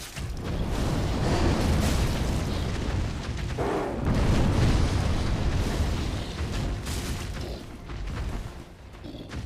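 A skeleton explodes in a video game, a loud sustained rumbling boom with dense crackling debris that rolls on for several seconds before slowly easing off.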